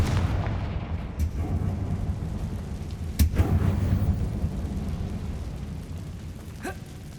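A loud blast from the Confringo fire spell booms in a Hogwarts Legacy mine setting, a sharp explosive crack followed by a rumbling roll over low background ambience.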